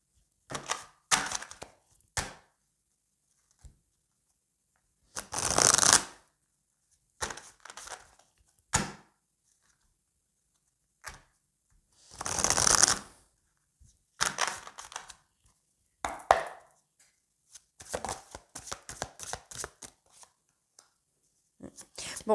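Sacré-Cœur oracle cards handled and shuffled close by in scattered bursts of papery riffling and crinkling, separated by quiet pauses.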